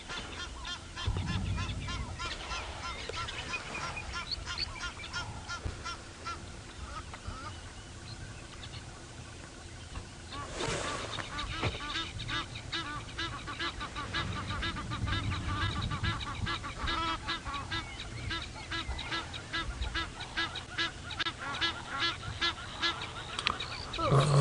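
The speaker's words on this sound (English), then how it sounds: "Yeah, the Egyptian geese calling too. It's that sound that you can hear now." Egyptian geese call from a distance on an early morning safari drive, repeated harsh honks and cackles rising and falling, while people talk quietly nearby.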